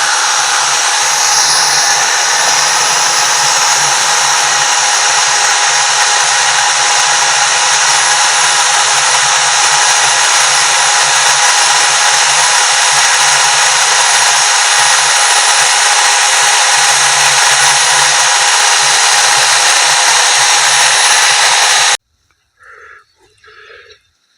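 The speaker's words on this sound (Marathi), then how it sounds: "आता हे मशीन आर पी एम जास्त असल्यामुळे एवढ्या फास्ट करते बघा" A high-RPM electric mixing machine spins fast to blend a homemade amino acid solution for farm use, making a loud, steady whir close by for about twenty-two seconds before it cuts off abruptly, leaving a few faint knocks.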